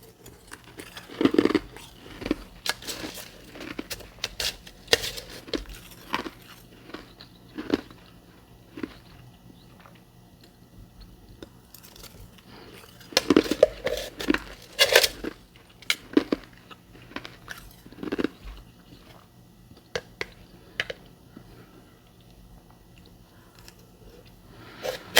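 Crunchy chewing and biting of powdery ice, including a carbonated variety, in close, irregular bursts of crisp crunches with quiet pauses between bites, no talking.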